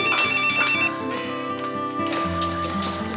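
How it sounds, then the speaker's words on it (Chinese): A telephone rings with a melodic ringtone in a TV drama scene, repeating tonal phrases sounding clearly and steadily throughout. "我来接电话哈"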